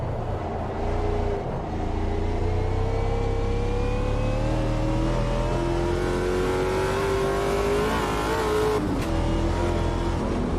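A V8 supercar in the racing game Automobilista 2 revs hard and continuously, engine pitch climbing through gears with brief shift dips, loud and close with no talk over it.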